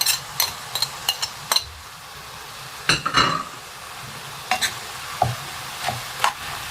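Peppers stir-fried with liver and onions in a pan, a low sizzle broken by a series of sharp spatula scrapes and clinks against the pan at irregular intervals.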